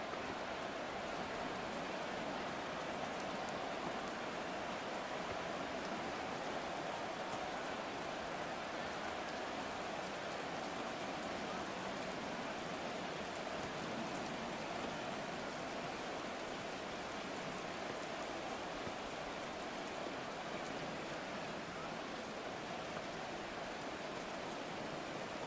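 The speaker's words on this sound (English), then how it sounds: "Forecast calling for more of the same. The rain set to continue as we are underway in the second half." Steady rain falling in a Madden 24 football game, an even hiss of rainfall holding constant and fairly faint for the whole stretch, no commentary over it.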